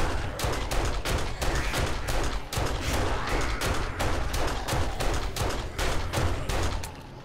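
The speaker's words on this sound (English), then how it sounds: "Let's use the handgun a little bit." Handgun fire in the game 7 Days To Die comes as a rapid string of about twenty loud, sharp shots at a fairly even rhythm, close and dominant, with no speech.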